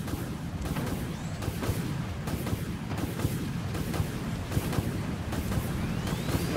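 Deep rumbling missile launches and booming explosions from a naval combat game roll continuously, with repeated heavy thuds and a low roar layered together, loud and unbroken throughout.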